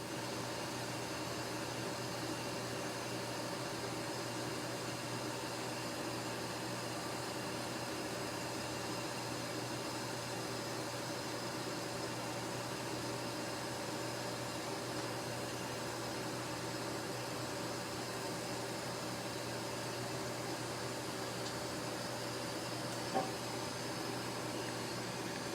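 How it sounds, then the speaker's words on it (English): Suction machine drawing air through tubing during a CO2 fractional laser skin treatment, a constant steady whooshing drone with a low hum, unchanging throughout. "We have some tubing here, and this is what you're kind of hearing a lot of that sound. It's just sucking any of that air,"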